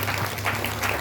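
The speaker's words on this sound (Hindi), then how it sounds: "ताली बजाए, धन्यवाद दीजिए।" An audience claps together at a Christian prayer gathering, a brief burst of steady, fairly close applause lasting about a second.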